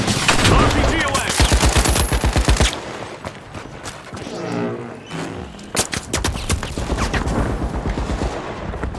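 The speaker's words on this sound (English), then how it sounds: "RPG away." An RPG rocket launcher fires in the video game The Finals during the last seconds of a match. Loud bursts of gunfire and a whooshing launch and blast rise from heavy automatic shooting, then more rapid shots follow.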